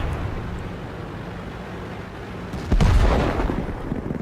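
A tank cannon fires in World of Tanks, a single loud booming blast arriving partway through and rolling off into a rumbling tail over low background engine noise.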